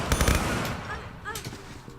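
Guards' gunfire in the video game Tomb Raider III Gold, a rapid burst of sharp automatic shots up front followed by a couple of quieter tonal game sounds, loud and close.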